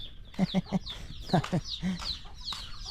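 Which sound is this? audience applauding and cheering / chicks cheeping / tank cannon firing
chicks cheeping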